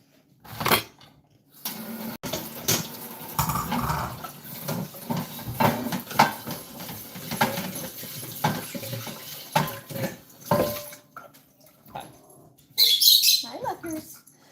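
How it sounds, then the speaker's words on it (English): A pan is rinsed under a running kitchen tap while tofu Pad Thai is made at home, with water splashing and metal clattering close by, under steady talk and a bird chirping. "I'll rinse this pan"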